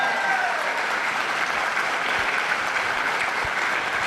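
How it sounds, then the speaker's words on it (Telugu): An audience at a success-speech event claps together, a dense, steady burst of applause that continues evenly throughout with a faint crowd murmur. "మనందరం కూడా ఒకసారి గ్రాండ్గా క్లాప్స్ హృదయపూర్వకంగా"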